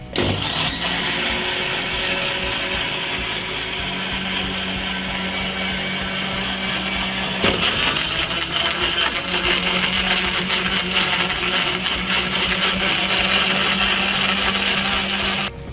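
An electric blender grinds three tomatoes and three onions into a paste, a loud continuous motor whir that dips briefly in pitch midway before carrying on steadily, close and alone.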